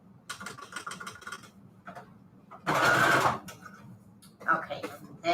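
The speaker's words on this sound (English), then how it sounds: "We'll go back over here with the straight stitch." A sewing machine runs a straight stitch through fabric on a manila tag, its motor whirring in short bursts with pauses, the middle burst loudest and closest.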